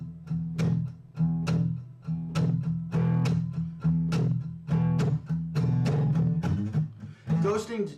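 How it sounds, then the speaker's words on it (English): Electric guitar groove of repeated plucked chords and muted strums, with some notes ghosted very softly between louder hits, a steady rhythmic pattern played alone and up close. "Ghosting just means playing some notes softer, very soft, almost imperceivable."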